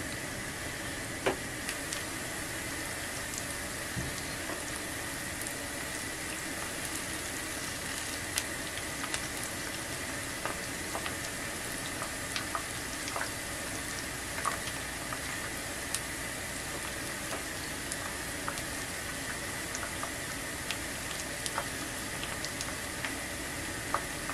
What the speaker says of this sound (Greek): θα πρέπει να τηγανιστούν καλά από τη μία μεριά για να μπορέσουμε να τα γυρίσουμε